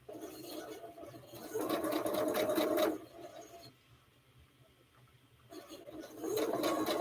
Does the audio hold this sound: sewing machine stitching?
yes